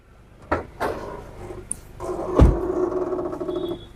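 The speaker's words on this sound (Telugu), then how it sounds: "బూట్ సౌండ్ సార్, ఎంత నీట్గా ఉందో." The boot lid of a 2015 Honda City V petrol sedan opens and shuts, giving a few close, light thuds and clunks with a short mechanical rattle after the main shut.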